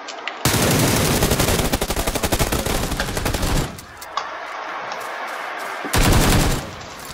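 Loud rapid automatic gunfire in a shooter video game, a sustained burst of dense shots, a pause with faint effects, then another short heavy burst near the end.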